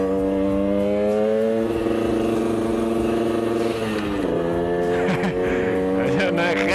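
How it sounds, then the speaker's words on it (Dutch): A two-stroke moped engine drones steadily close by, while a grey Volvo car passes nearby with a brief swell of road noise; someone talks over it. "Dat is een grijze Volvo die niet mijn kant op gaat"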